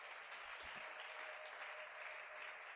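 A church congregation at a French Sunday service breaks into sustained applause and clapping that fills the room evenly, heard from within the crowd with no speech on top.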